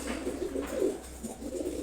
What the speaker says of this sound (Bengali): দেখেন হচ্ছে সিলভার গোরা কবুতর, এটা নর আর হচ্ছে মাদি, দুইজনেই রেস্ট নিচ্ছে এখন।